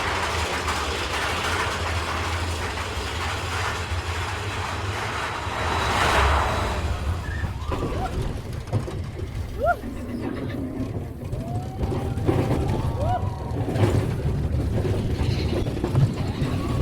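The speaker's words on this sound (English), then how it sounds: "on the final ascent, can you see the whole train rocking side to side as it makes its incline?" A roller coaster train at Magic Kingdom climbing its final incline, rocking side to side, with a continuous mechanical rattle and clatter of wheels on track under crowd ambience and a few faint shouts.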